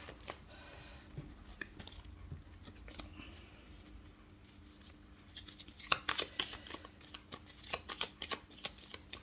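Tarot cards riffled and shuffled close by, quiet soft flicks at first, then a burst of sharper rapid riffles in the second half, no talking.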